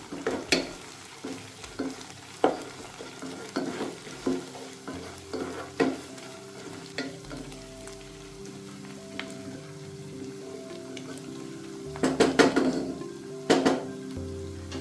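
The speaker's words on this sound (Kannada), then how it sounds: "ಹಾಗೆ ಹಸಿರು ಮೆಣಸಿನ್ಕಾಯಿ, ಚಟಪಟ ಚಟಪಟ, ಕರಿಬೇವಿನ ಎಲೆಗಳು, ಶುಂಠಿ ಬೆಳ್ಳುಳ್ಳಿ ಪೇಸ್ಟ್, ಇದಿಷ್ಟು ಚೆನ್ನಾಗಿ ಫ್ರೈ ಮಾಡ್ಕೊಳ್ಳೋಣ" Green chillies, curry leaves and ginger garlic paste fry in a pan for mutton pepper fry: a steady sizzle broken by repeated scraping stirs and clinks of a spoon against the pan, close and fairly loud, with no talk.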